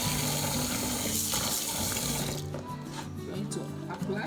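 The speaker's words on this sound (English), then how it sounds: "So we have the cracked beans here. Look at it. We are going to wash it. Okay, I'm going to pour some water." Water pouring steadily over cracked beans in a bowl for washing, a continuous loud splashing and trickling that eases slightly near the end.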